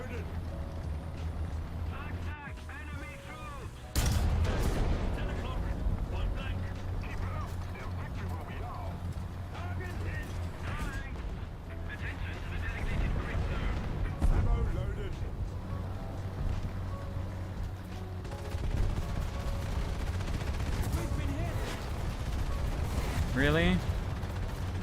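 Gunfire and artillery in a tank video game, with heavy booming shots and a steady engine rumble throughout, while someone talks over the battle.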